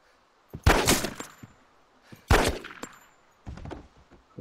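Gunshots ring out in the video game DayZ, three separate sharp blasts spaced a couple of seconds apart, each loud and close with a short ringing decay, plus a few small clicks between.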